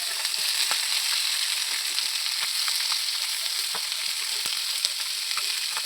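Kerala-style neymeen (seer fish) slices fry in a pan after being flipped, giving a bright continuous sizzle broken by scattered sharp crackles and oil pops, close and fairly loud, with no one speaking.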